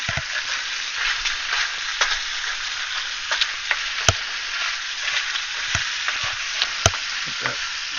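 Bacon and onions frying in a pan, a dense, steady sizzle up close with occasional sharp pops and spits, no talk.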